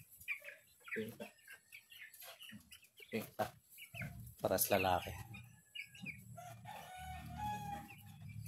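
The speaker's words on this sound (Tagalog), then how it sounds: "Ito yung lalaki kong manok." A pet rooster crows once loudly and close, amid clucking from a small group of backyard chickens, with someone talking intermittently over the birds.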